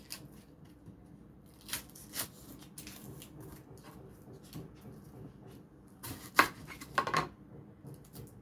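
A knife slices an onion on a cutting board in a home kitchen, giving a scattering of quiet, sharp cutting strokes with a few louder clustered cuts near the end, close up amid soft background noise.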